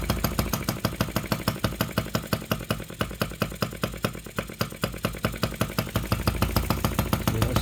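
An OKMO 1110 miniature working replica of a 1950s Japanese engine runs steadily. It makes a fast, even chugging pulse with a clattery mechanical edge, loud and close, and the pulses grow slightly fuller toward the end.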